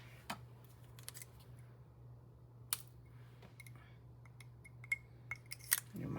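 Scissors trimming paper for a handmade card, a series of small sharp snips and clicks spread through the clip, close but faint over a low steady hum, with no talking.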